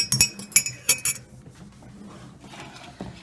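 A utensil stirs liquid ingredients such as vanilla extract into dry bath fizzy mix of baking soda and cornstarch in a bowl, giving a few sharp, close clinks against the bowl early on, then a softer scraping rustle.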